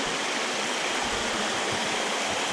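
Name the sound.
mountain water stream flowing at Thirumoorthy Hills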